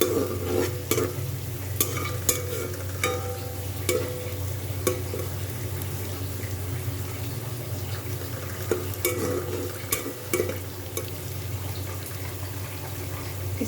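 Masala frying over a medium flame with okra and chicken, a continuous hissing sizzle under regular spoon scrapes and stirs, close and steady throughout.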